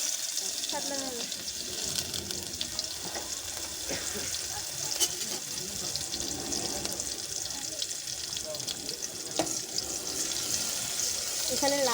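Whole cumin seeds and crushed garlic sizzle in hot oil in a home kitchen while mashed-papaya lentil dal is being made, giving a steady, close, bright hiss throughout with faint voices in the background.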